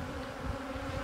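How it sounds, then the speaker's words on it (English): Honeybees drone in a steady, close buzz over a brood frame lifted from a hive during a split, quiet and continuous with no voices. "Lots of bees on it"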